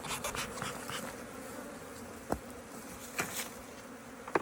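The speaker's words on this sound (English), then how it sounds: "They're full of bees underneath" Honey bees buzzing steadily around an opened beehive during frame work, a close, continuous drone with a few sharper passes near the microphone.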